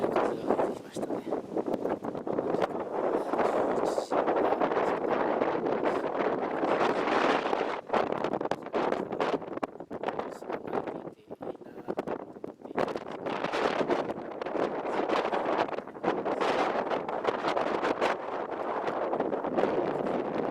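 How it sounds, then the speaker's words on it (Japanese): Very strong, typhoon-like wind in Moka City, Japan, roaring continuously and buffeting the microphone in heavy gusts for about twenty seconds, with no one speaking. "ものすごい強い風が吹いてきましたね。"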